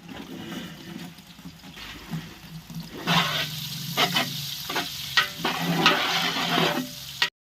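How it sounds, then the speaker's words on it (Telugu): Onions and green chillies dropped into oil for jeera rice cooked in bulk for a food donation, a quiet start that swells into loud, close sizzling and crackling with uneven bursts as the ingredients are stirred. "ఆయిల్ పోసేసుకుందాం. ఆనియన్స్ వేసుకుందాం. పచ్చిమిర్చి వేసేసుకుందాం."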